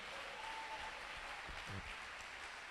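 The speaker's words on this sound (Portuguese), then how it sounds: "Dá aplauda mais forte o Senhor" A church congregation at an evening prophetic service applauds, a soft, steady wash of clapping that sounds fairly distant, with a brief faint tone and a low thump partway through.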